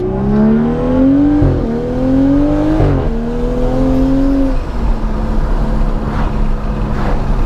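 A BMW M235i engine drones while driving, with a steady tone that rises briefly during mild acceleration before settling back to an even cruise, heard from inside the car with no talk.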